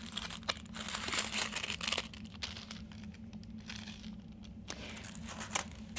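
Thin charcoal oil-blotting paper sheets being handled: close, light crinkling and rustling in irregular bursts, louder at first and then quieter, heard alone.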